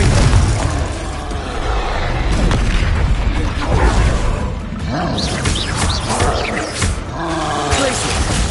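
Confringo blasting spells explode in the Hogwarts Legacy video game, a dense run of booms and bursts layered with roaring effects, loud and continuous throughout.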